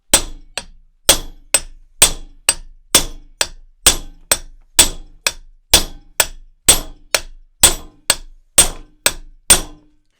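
A hammer strikes the rear hub bearing of a Jaguar IRS in about twenty sharp, ringing metallic clangs at a steady, quick rhythm. The blows are loud and close, and each one fades briefly before the next.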